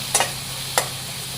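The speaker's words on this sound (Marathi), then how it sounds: "तेलात परतलेला वाटाणा आपण एकदा हलवून घेऊयात" Peas fried in oil being stirred in a pan, a brief close sizzle with two quick scraping strokes of a spoon over a steady hiss.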